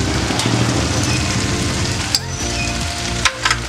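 Chili paste and spices fry in a hot pan with a dense, continuous sizzle and crackle, broken by a few sharp clinks of a utensil toward the end.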